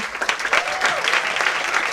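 Audience applause for a lighting technician during credits at a Ramleela performance, a brief, full burst of clapping from the crowd that stays steady throughout.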